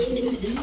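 A pigeon gives a short, soft coo close by, a brief low throaty call in a pigeon sales loft.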